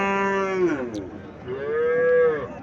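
At a cattle market in Comilla, a cow gives two loud, drawn-out moos close by, one after the other, with busy market noise faintly behind.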